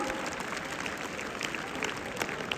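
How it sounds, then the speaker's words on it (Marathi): Loud, steady applause from a crowd at a school sports competition opening ceremony, sustained clapping that fills the whole short stretch with a few murmuring voices beneath it. "एकदा सगळ्यांसाठी जोरात आपण टाळ्या वाजवूया."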